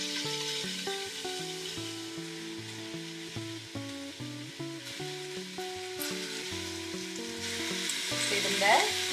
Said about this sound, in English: Once your rabbit's been cooking and browning and looks more or less like this, pop it out onto a plate.